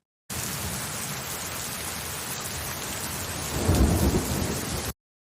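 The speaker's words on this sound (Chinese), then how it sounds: "第三个呢就是这种雷阵雨的一个雷暴，里面有雨的声音，也有就是打雷的一个声音。" A thunderstorm with steady, heavy rain hissing throughout and a deep rolling thunder clap swelling near the end before it cuts off abruptly, no voices.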